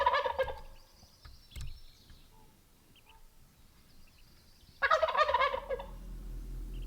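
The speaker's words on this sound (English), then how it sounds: "There's a bird noise this morning." A turkey gobbles in the morning near a campsite, two loud bursts of calling separated by a quiet stretch with faint background hum.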